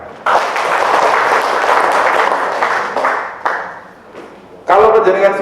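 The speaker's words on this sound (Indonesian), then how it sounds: "Tepuk tangan" Audience applause at the opening of a training session for village consultative board members in Masaran, Sragen, a burst of clapping that swells, dips and tapers before a voice speaks over the room at the end.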